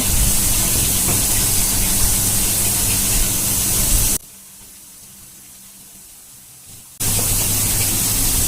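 Onion paste hitting a hot pan for beef kala bhuna gives a loud, steady broadband hiss that cuts out for a few seconds in the middle, then returns just as strong.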